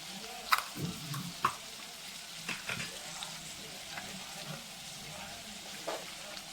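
Mustard seeds and chili crackle in hot oil, making soft sizzling with scattered sharp pops and spatters, close and moderately quiet.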